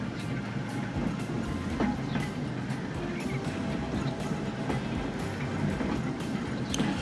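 Steady low rumble of a commuter train in motion, heard from inside the carriage, with occasional faint clicks and rattles over the track and no talking.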